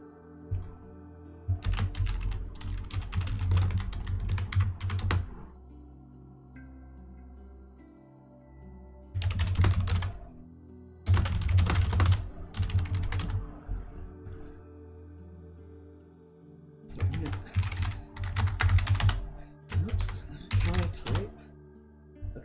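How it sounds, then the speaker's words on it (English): Frantic typing on a computer keyboard comes in several dense bursts of loud, close key clatter separated by quiet gaps of a few seconds, over low background sound from the game NieR Replicant. "the reason I keep typing furiously"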